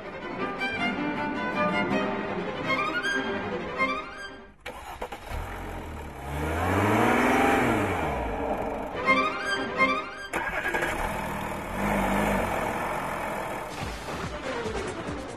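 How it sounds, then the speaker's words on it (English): A 3-litre diesel car engine starts and revs with a rising and falling roar, set among bright musical tones before and after. "Two 3-litre diesel engines make up the firepower in this duel."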